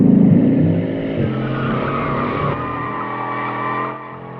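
A Bugatti Chiron driven hard in handling mode gives a loud, sustained engine roar mixed with tire squeal and skidding noise, close up and continuous, easing slightly at the end.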